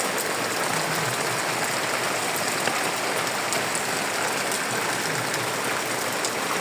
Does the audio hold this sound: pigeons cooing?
no